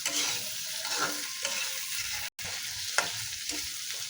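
Prawns fry with onion, green chilli and ginger-garlic paste in a pan, a continuous close sizzle with occasional stirring scrapes and no talk.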